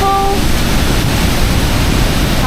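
A large waterfall in Baños, Ecuador roars in a loud, steady, unbroken wash of rushing water that fills the whole moment.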